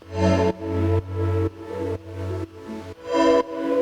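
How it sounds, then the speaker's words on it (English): Sustained Yamaha DX7 synthesizer chords with a bright electric-piano tone, changing roughly every half second in a steady rhythm, with a low bass note underneath. "This is like me on the DX7, and I laid the chords"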